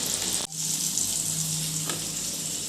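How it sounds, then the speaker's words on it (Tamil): Steady, loud sizzle of potato fries frying in moderately hot oil, with a soft clunk near the start. "ஃபஸ்ட்டு மிதமான சூடில் பொரிச்சு எடுத்துடலாம்."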